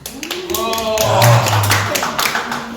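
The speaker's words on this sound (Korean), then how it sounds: "야, 박수!" A few quick hand claps from elementary-school children in a Bible class, scattered and close, sounding mostly under an adult's voice as he keeps talking.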